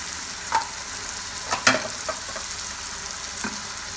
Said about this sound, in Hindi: अब मसाले के साथ इसको हम फ्राई करेंगे ताकि मसाले में भी इसका अच्छा सा टेस्ट आ जाए